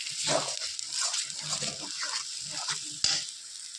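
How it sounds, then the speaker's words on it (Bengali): Mashed taro (kochu) paste stirred in a frying pan over low heat, giving soft, repeated scraping strokes over a faint sizzle, close by, with one sharper knock near the end. "কচুটাকে আমি শুধু নেড়ে যাব, হালকা আঁচে ভালো করে কষতে হবে"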